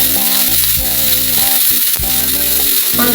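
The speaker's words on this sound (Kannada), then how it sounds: "ಈಗ ನಾನು ಮೆಣಸಿನ್ಕಾಯಿ ಆವಾಗ ಹುರ್ಕೊಂಡು ಹಾಕ್ಕೊಂಡಿದ್ದೆಲ್ಲ ಮೆಣಸಿನ್ಕಾಯಿ ಹಾಕ್ಲತ್ತೀನಿ." Chillies crackle and sizzle in hot oil in a pan, a loud continuous fry with music playing underneath and no voices.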